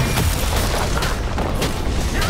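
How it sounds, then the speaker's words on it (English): Turret destruction in League of Legends, a dense booming crash of explosion effects that fills the short moment with rumbling blasts and debris. "Red team's turret has been destroyed."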